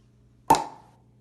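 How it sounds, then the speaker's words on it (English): A single sharp pop from a pop gun, like a cork leaving a bottle, followed by a brief ringing decay, alone against a faint low hum. "we need to recreate something like the sound of a bottle opening"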